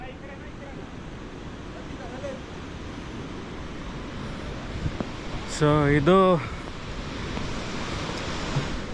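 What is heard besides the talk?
river water rushing at Mekedatu gorge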